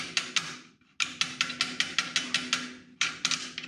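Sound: screwdriver smacking an E-clip onto a planer pin

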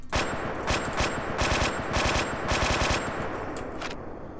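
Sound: video game assault rifle gunshot

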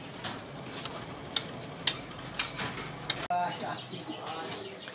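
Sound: birds at a bird kiosk

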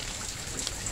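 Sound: rain starting to fall

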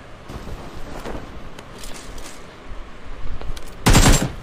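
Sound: gunfire in the video game BGMI

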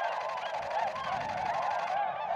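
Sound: flock of swans calling

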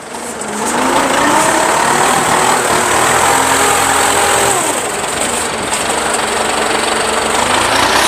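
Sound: 95 horsepower tractor engine running

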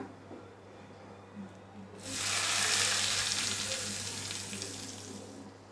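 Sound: tempering (tadka) poured into chutney, sizzling

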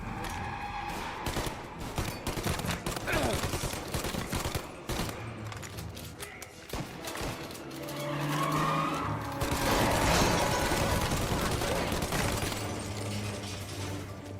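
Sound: gunfire in video game Mafia Definitive Edition

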